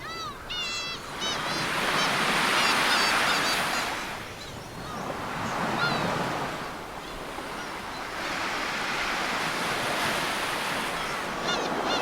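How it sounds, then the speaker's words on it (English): Ocean surf rolling in at Bondi Beach in Sydney, a steady broad wash of breaking waves swelling and easing in loudness, with gulls calling faintly overhead and some wind buffeting the microphone. "Bondi Beach is a popular beach in the Sydney metropolitan area of New South Wales, Australia."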